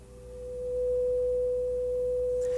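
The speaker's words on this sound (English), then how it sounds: "displayed down here is a 500 hertz sine wave" A steady 500 Hz sine test tone from a signal generator, loud and continuous, holding a single pure pitch that swells slightly in level during the first second and then stays constant.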